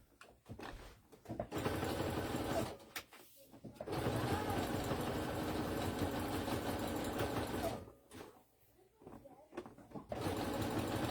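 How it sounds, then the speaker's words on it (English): A sewing machine runs a zigzag top stitch along a bra band in several steady, close whirring stretches broken by short pauses, with a soft voice occasionally underneath. "So I like to top stitch that down with the zigzag"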